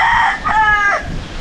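A rooster crows close by, a single clear cock-a-doodle-doo among a flock of chickens, loud and brief.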